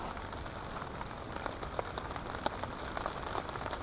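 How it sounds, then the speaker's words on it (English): Steady rain falls at a campsite on a cold, windy evening, a dense, even patter of drops close by with faint sharper taps and no voices. "and then it started raining."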